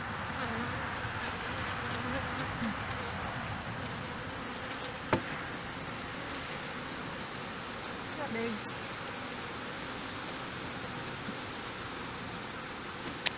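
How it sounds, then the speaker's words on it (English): A swarm of honeybees being caught outdoors, a loud continuous close buzzing of many bees filling the whole stretch, with a couple of brief knocks. "Good size swarm."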